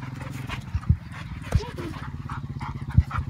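Several dogs bark in short irregular bursts close by, mixed with a person speaking and a steady background hum.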